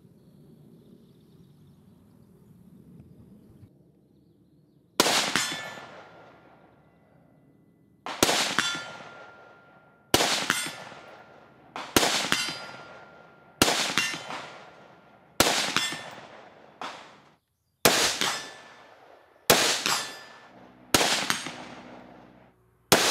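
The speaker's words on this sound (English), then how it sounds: "So let's shoot some steel." A Bravo Company AR-15 fires about ten sharp shots at steel targets at an outdoor range. Each report carries a ringing metallic clang that decays, and the shots come in an uneven, spaced series with no talk.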